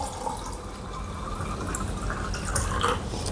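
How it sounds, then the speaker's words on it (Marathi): Water is poured into a vessel for a Ghatasthapana ritual pot, making a continuous splashing, gurgling fill with bright dripping accents, close and without speech. "कशामध्ये असं पाणी भरून घ्यायचं"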